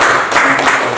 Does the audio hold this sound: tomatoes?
no